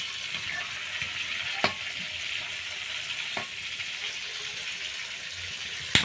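Fish sizzles steadily in hot oil in a home kitchen, a continuous bright frying hiss with a couple of sharp crackles and pops, close up and with no talking.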